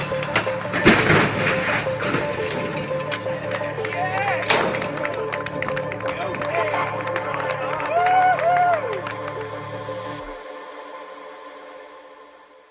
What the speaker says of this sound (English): you can see by the clapping and excitement at the end of that crash test there